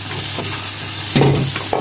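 Shrimp bhuna cooks in a pan with a close, continuous sizzle and hiss, broken by a couple of short stirring scrapes; no voices.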